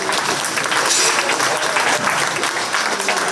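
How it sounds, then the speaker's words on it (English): Spectators at a 4-H swine show at the county fair give the gilt exhibitors a loud, dense round of applause, continuous clapping from a close crowd throughout. "If you would please give those exhibitors a big round of applause."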